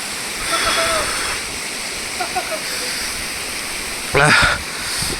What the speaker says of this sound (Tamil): அந்த அருவிக்க டாப் எண்டு இதுதான்